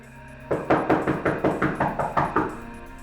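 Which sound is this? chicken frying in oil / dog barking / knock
knock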